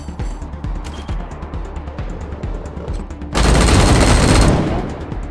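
Weapon gunfire in the video game Wasteland 3, a regular series of distinct shots followed by a loud sustained roaring blast of fire, with little talk.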